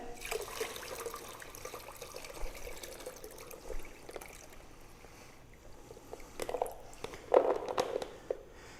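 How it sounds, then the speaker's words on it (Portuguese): Water draining from soaked Conilon coffee cherries, a soft steady trickle and gurgle that swells into louder splashy bursts near the end, with no talking. "Vamos retirar aqui a água do nosso café."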